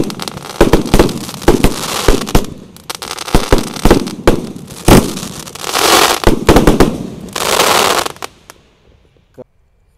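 A 25-shot Roman candle fires in a quick run of loud, sharp bangs and crackling bursts, with short bursts of hissing between them, then the barrage stops abruptly and silence follows.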